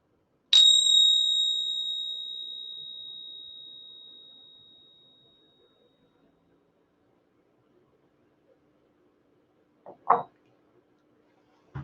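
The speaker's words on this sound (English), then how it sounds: "I'll ring the bell, and when the sound stops," A meditation bell is struck once and rings out clear and bright, its tone slowly fading over several seconds into near silence, followed later by a couple of faint soft knocks.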